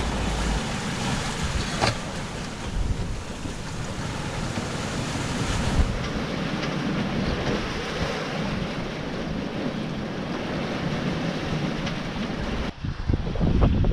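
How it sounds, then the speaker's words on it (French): Sea waves roll in the strait off southern Corsica. The surf makes a steady broadband wash with wind rumble from start to finish, and a slight buffet near the end. "il y a moins de vagues"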